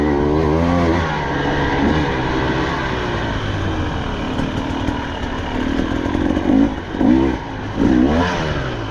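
A 2024 KTM 300XC-W two-stroke dirt bike with a TSP head and ECU tune, ridden at a steady cruise off-road; a continuous close engine drone with rising and falling revs and brief throttle blips near the end.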